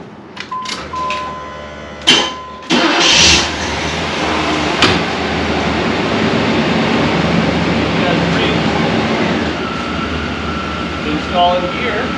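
A neglected Chevrolet Caprice engine cranks briefly and catches, then settles into a steady, fairly loud running drone with a rough edge, a few clunks and short voices over it near the end.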